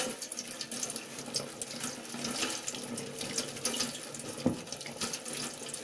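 Water runs from a tap onto hair during washing, a continuous splashing flow close by with small fluctuations and no talk.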